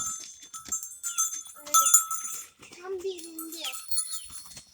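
Goats and sheep bleat nearby in several wavering calls, mixed with a voice and farmyard noise.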